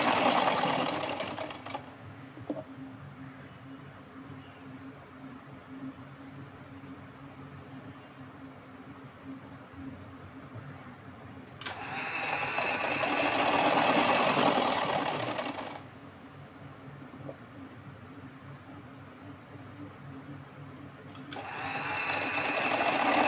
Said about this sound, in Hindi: ये देखिए डोरी डाल के हम यहाँ पे सिलाई करेंगे।